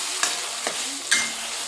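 Ground raw tomato chutney masala frying in a pan with a ghee tempering of urad dal and mustard seeds, a soft steady sizzle with three brief scraping stirs of a spoon.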